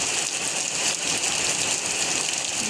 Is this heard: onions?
no